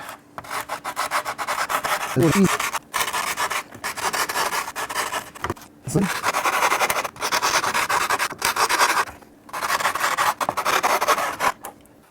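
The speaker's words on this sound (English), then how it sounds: "I've got a spindle off my spindle sander, and my thought is to just get these kind of roughly to a round shape." A sanding spindle taken off a spindle sander rubs and rasps against small wooden guitar braces, rounding them in steady back-and-forth strokes with brief pauses, close and fairly loud.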